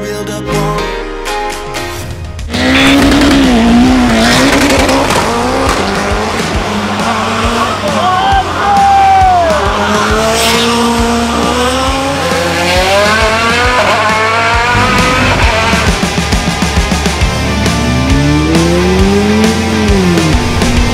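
Race cars blast through the fast 'curve of death' on the Rampa da Falperra hill climb in Portugal. After a quiet opening, loud engines roar and swoop up and down in pitch as the cars pass close by.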